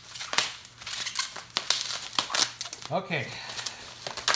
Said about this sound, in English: Oh, more cellophane wrapping.